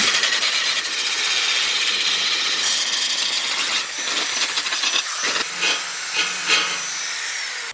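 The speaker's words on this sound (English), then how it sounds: "So I'm sanding down as much as I can" A hissing, gritty sanding sound from working down pitted metal on a Ford Pinto cowl runs steadily and close up, then breaks into shorter scrubbing strokes near the end.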